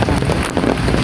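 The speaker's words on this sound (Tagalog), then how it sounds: "Umuulan." Steady rain falls outdoors in bad weather at a seaside spot as fishermen prepare to head out, a dense, continuous hiss of drops with gusty wind noise filling the whole moment.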